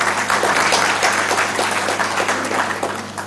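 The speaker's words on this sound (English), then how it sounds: "please give them a very big round of applause." Delegates at an academic conference applaud in a loud, dense round of clapping that holds steady and then tapers off slightly, with a low hum beneath.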